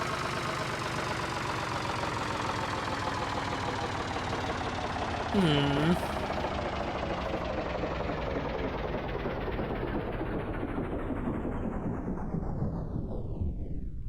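A tractor engine in a foggy video game runs with a loud, steady chugging drone throughout, with a brief whining tone in the middle, close and constant.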